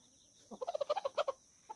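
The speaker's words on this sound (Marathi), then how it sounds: "रेडवाला कोंबडा बघा" A red desi gavran rooster clucks in a quick run of about ten sharp, close notes, then falls quiet before one last short cluck, with a steady high hiss in the background.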